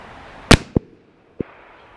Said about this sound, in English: Let's take another shot.